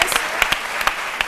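An audience applauds on a midday television show, a brief burst of dense clapping with a few sharper individual claps standing out, fairly close and loud.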